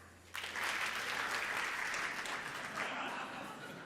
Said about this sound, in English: You have only to clap once for the company that you trust the most.